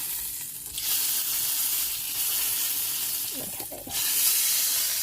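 Meat frying in a hot pan gives a steady broadband sizzle and hiss throughout, growing a little louder midway, with brief spatters near the end and no talking.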